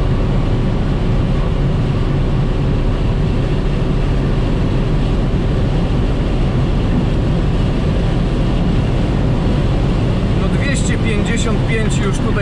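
A 2000 Audi S6 C5 holds its 255 km/h limiter on a motorway, a steady, loud broadband roar of wind, tyres and engine that runs unbroken throughout, with a few brief higher clicks near the end.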